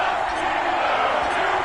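A stadium crowd roars in an EA Sports NFL game before a Cincinnati Bengals versus Pittsburgh Steelers matchup, a steady, dense wash of cheering that holds at an even level throughout.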